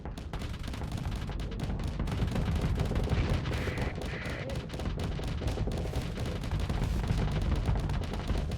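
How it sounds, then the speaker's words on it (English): Sustained light machine gun fire in a combat video game, dense rapid bursts mixed with other gunfire and explosions in the background, with no talking. "I'm using the light machine gun sparingly because the hound is doing a really good job actually of applying kinetic pressure already."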